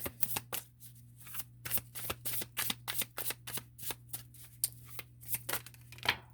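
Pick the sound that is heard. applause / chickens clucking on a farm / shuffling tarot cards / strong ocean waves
shuffling tarot cards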